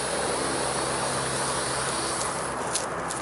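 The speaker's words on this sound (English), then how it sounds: "That's how you fly a drone." A small toy drone buzzes in flight with a constant whirring propeller drone, steady and moderately close throughout with no voices.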